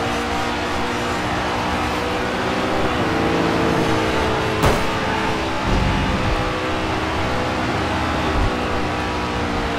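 A race car in the video game GRID 2 passes close by: a loud, steady engine drone with a sharp transient near the middle, then a shifting pitch as the rival car goes past.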